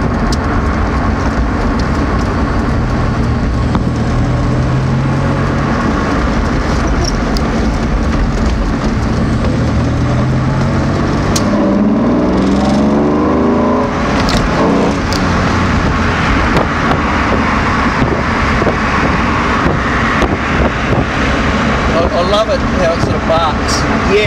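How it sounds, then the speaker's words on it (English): A Lamborghini Diablo engine growls continuously from close by, a deep rumbling roar with road noise, as people talk over it. "it's got a great growl to it, right next to the engine"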